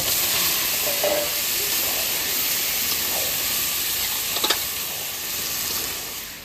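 Chicken frying in a pan with salt and turmeric, a loud, dense, continuous sizzle and hiss heard up close and unbroken throughout, with no one speaking.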